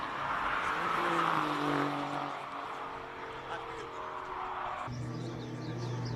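A Porsche GT3 RS race car pulls away from the start line at a Cape Town hill climb, its engine note rising and fading as it leaves, with a commentator talking over it.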